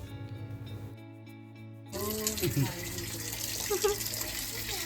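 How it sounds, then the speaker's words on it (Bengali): Water runs while fish are washed, likely at a tap or sink: after a quieter opening, a steady splashing gush sets in and continues under a few voices talking nearby. "কাকিমা এদিকে একটু ধুয়ে নিচ্ছে আর এদিকে রাজা মাছ ধুচ্ছে"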